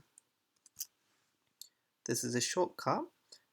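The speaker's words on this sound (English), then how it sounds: "We then need to press F4 button on our keyboard" A few light clicks from an F4 key press on a computer keyboard, sparse and close, come before a short burst of speech.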